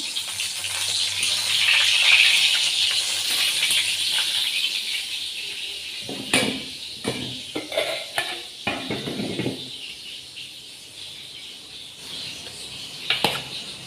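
Brinjal (eggplant) slices fry in a pan on a home stove with a steady, close hiss and sizzle, broken by a few sharp clinks and scrapes of a utensil against the pan.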